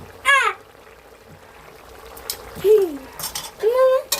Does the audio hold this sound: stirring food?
yes